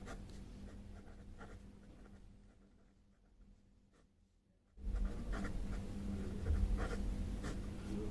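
A pen or chalk scratches out a statistics formula by hand for a class 10 maths lesson, faint at first, then louder and steadier strokes after a short pause, close with no talking.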